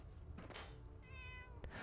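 One cat meow in Fallout 4, a short wavering cry in the middle of a steady background of game ambience and low rumble, close and fairly loud.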